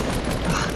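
Gunfire in the video game Fortnite, a brief loud dense burst of shots filling a split second with no pause.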